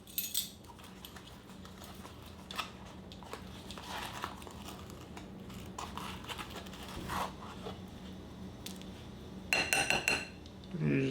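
Dry flour, kosher salt and baking soda being mixed in a bowl, with scraping and light clinking of a utensil against the bowl throughout, ending in a louder burst of clatter.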